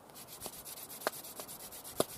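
A wooden hand drill is spun by hand against a fireboard to make friction fire outdoors in the rain, producing soft repeated rubbing strokes with a few sharper scraping bursts, quiet and close with no talking.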